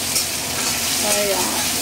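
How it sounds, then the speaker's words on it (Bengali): Onion and green chili frying lightly in a pan, a steady close sizzle with faint stirring scrapes throughout. "কাঁচা লঙ্কা পেঁয়াজটা দিয়ে দিয়েছি, একটু হালকা ভাজা করে নেব।"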